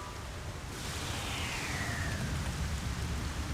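Steady rain hiss from an acid rain cloud in the SimCity 3000 city-building game, a dense, even wash of noise with a faint sweeping tone passing through, no talk over it.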